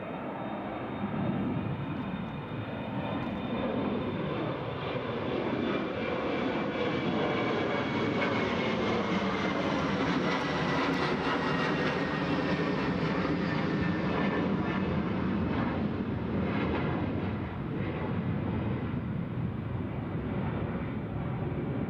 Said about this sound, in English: we've also got, I think it's an Embraer 175